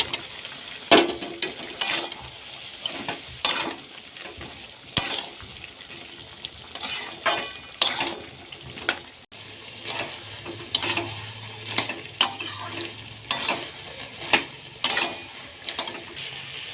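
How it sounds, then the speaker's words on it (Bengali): Pumpkin pieces added to a pan with other vegetables clatter and scrape as they are stirred, giving intermittent sharp knocks of utensil on pan over a faint background sizzle. "এবার মিষ্টি কুমড়োগুলো দিয়ে দিচ্ছি"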